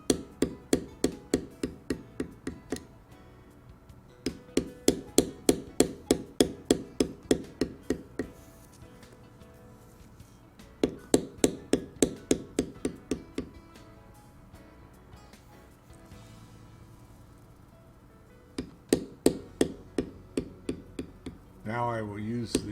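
A metal beveler tapped with a mallet on leather while carving a largemouth bass design, in bursts of rapid, evenly spaced sharp taps separated by short pauses, close and distinct.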